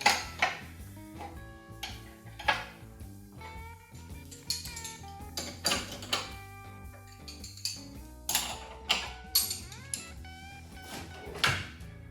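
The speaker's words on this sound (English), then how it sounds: "Then we just go around with the spanners. Check everything's tight, make sure nothing's moved." Spanners tighten bolts around the suspension of a Brabham BT21 race car in a workshop, producing faint, scattered metallic clinks and ratchety clicks at an unhurried, irregular pace.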